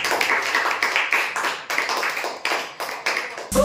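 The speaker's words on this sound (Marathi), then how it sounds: "दोघांसाठी जोरदार टाळ्या" A group of schoolchildren claps loudly for two players after a memory game in class, close bursts of brisk rhythmic clapping in short waves, with a sharp louder sound at the very end.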